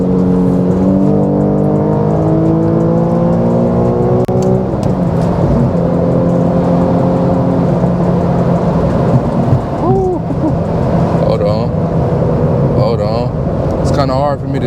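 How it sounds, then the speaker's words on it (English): An Infiniti Q50S running E85 fuel accelerates hard, its engine drone climbing steadily in pitch through the gears, loud and continuous from inside the cabin, with brief clicks near the end. "I want to give y'all one last pull before I end this video."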